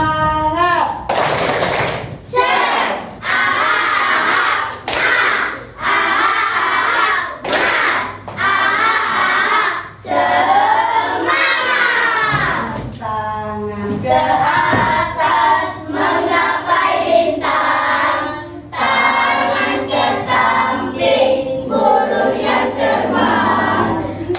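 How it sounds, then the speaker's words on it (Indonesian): A class of children performs a rhythmic clapping cheer, bursts of sharp synchronized claps alternating with shouted chanted phrases in a repeating pattern, loud and close, over about twenty seconds. "Kita tepuk semangat dulu."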